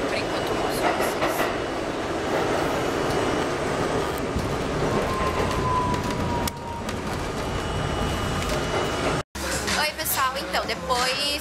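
A New York City subway train rumbles and rattles loudly nearby with steady clattering wheels and screeching, while people talk over it, and the scene cuts near the end.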